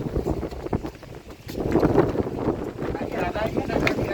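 Strong wind during a storm in Mathura, heard on a rooftop as gusty rumbling buffeting the microphone, rising after the first second and a half, with someone talking close by.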